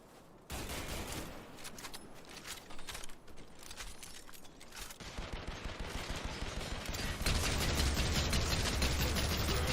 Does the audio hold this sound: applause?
no